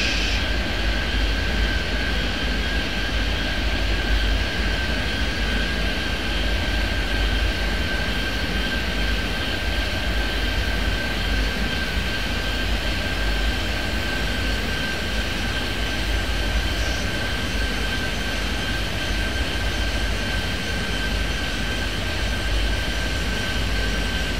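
Steady, loud drone of aircraft engines in the airport game Airport Madness 3D, a continuous engine roar with a sustained tone running unbroken throughout.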